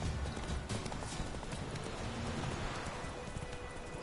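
Hooves of Roach, the horse in The Witcher video game, clip-clopping in a steady rhythmic trot, fairly close and alone without talk.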